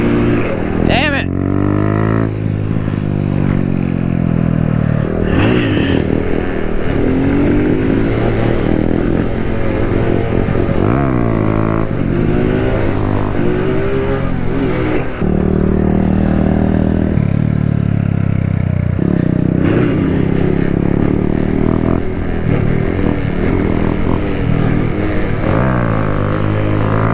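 A Kawasaki Z125 motorcycle rides and revs with a wavering, rising and falling engine note that stays loud and close throughout, joined by clattering and wind buffeting, with people talking over it at times.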